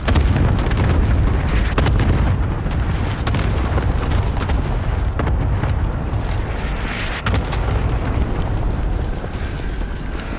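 Airstrike explosions in Call of Duty Warzone: a continuous barrage of deep, loud booms and blasts rolling one after another for several seconds, heavy low rumble throughout.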